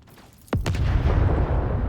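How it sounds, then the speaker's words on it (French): A sudden explosion in the video game Rogue Trader strikes with a heavy boom, then rolls into a loud, sustained rumbling roar that fills the rest of the moment. "Une autre explosion interrompt le sergent."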